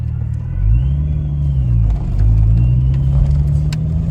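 A supercharged Silver Arrow Mk3 Jetta VR6 engine revs up loudly and close, climbing, easing back, then rising and holding again in a deep rumbling pitch with a faint supercharger whine above it.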